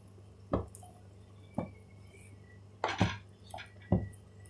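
Mutton curry stirred in a clay pot, a spoon scraping and knocking against the earthen sides in a handful of separate soft clinks and wet squishes spaced across a few seconds, close and fairly quiet.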